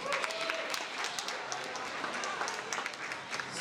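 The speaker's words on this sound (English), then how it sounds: "Can we get a round of applause for that?" Faint audience applause at a school Black History Month assembly, scattered claps over a soft crowd murmur, distant and low in level.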